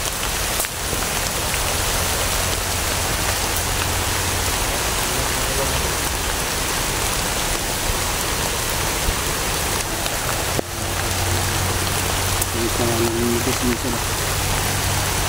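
Heavy rain pours down in a steady, loud roar of drops hitting surfaces, with faint voices briefly audible beneath it.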